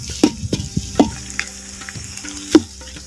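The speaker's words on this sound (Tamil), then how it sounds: "வெங்காயம் வந்து நல்லா பொன்னிறமாக நல்லா வதங்கிருச்சு" Onions fry until golden in a pan for Karaikudi Chettinad mutton biryani, a soft sizzle broken by several sharp knocks and scrapes of a stirring ladle. The sound is close, with no speech.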